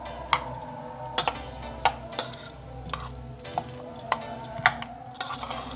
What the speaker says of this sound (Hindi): अब इसको मैं अच्छे तरीके से मिक्स करूँगी।